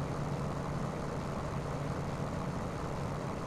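The P-40F fighter's engine in Microsoft Flight Simulator runs steadily past 3,000 revs, a loud, unbroken low-pitched drone that holds at a constant level throughout.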